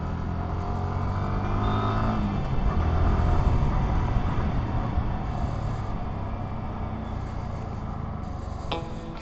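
A 2023 Yamaha R15M motorcycle rolls along the road, its engine a steady drone mixed with wind and road rumble, swelling briefly in the middle before easing off, with no one talking.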